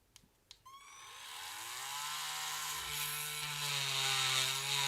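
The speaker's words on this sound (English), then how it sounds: "We're going to drill a hole here" A power drill spins up after a couple of faint clicks and bores into a workpiece, its whine rising and sustaining loudly, close by, with no talking.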